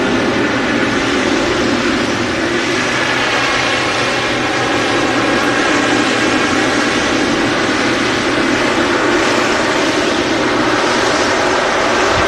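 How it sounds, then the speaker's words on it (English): A massive Boeing 777 at Manchester Airport produces a loud, steady, broadband jet engine roar that holds without a break throughout, with no voices. "the massive 777"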